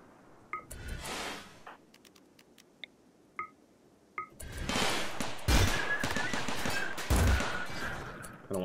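Turrets in the video game RimWorld fire on attacking pikemen: scattered single shots at first, then dense sustained bursts of gunfire, with faint game chimes in between.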